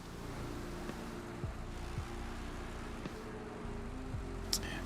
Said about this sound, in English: now the truck is all up in my ears again